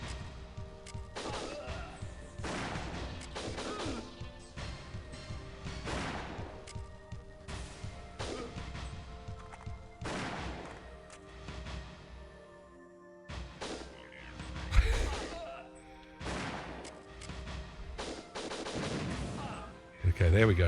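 Repeated bursts of gunfire, likely a machine gun, from the video game WinBack, loud clustered volleys spread over twenty seconds with short gaps, mixed with game music and effects and no talk over them.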